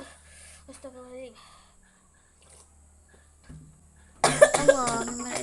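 A person coughs after eating a ghost pepper: short bursts early on and a louder, harsher cough near the end, with quiet breathing between.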